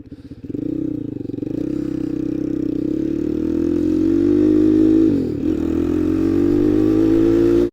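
A Honda Grom clone motorcycle fitted with a ZS-190 engine starts off and rides, a close, steady single-cylinder drone with a brief shift dip midway, then continuing at a constant pace.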